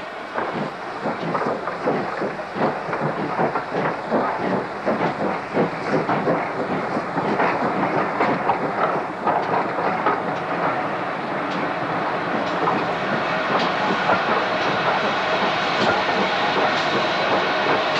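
A train hauled by two steam locomotives rumbles steadily past with rhythmic wheel clatter over rail joints, loud and close, continuing throughout with no voices.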